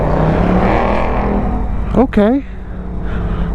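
A 2021 Harley-Davidson Road Glide Special rumbles steadily on a ride, its loud engine and wind noise running throughout while someone speaks briefly over it.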